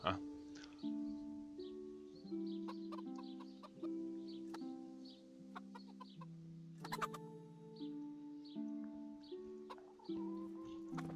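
Roosters in the medieval village of the video game Kingdom Come: Deliverance cluck and crow repeatedly in a busy overlapping chorus, mixed with melodic background music, fairly soft overall.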